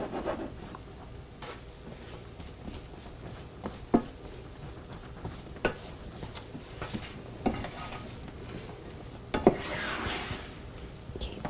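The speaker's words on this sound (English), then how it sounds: "Stirring it, you don't want it to burn." Homemade maple-coated nuts stirred in a pan on the stove, giving soft scraping and clinking of a utensil against the pan with a few sharper knocks, fairly quiet and steady with no voices.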